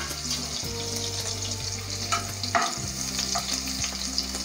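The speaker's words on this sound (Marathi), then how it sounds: "यामध्ये 5 हिरवी मिरची घेतलेली आहे मी, ती तळायची आहे" Five green chillies frying in a little oil for Diwali chiwda, a steady close sizzle and bubbling with a few light stirring clicks, no talk.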